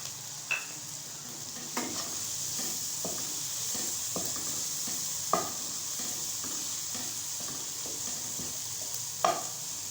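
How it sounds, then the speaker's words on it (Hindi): Green chillies fry with softened tomatoes in a pan under a steady, close sizzle, broken by periodic spatula stirs and clinks against the pan. "अब हम इसमें डालेंगे सब्ज़ मिर्च।"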